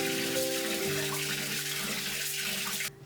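Rice being rinsed in a bowl of water and stirred by hand, a steady close sloshing and swishing of water that runs continuously, then cuts off abruptly at the end.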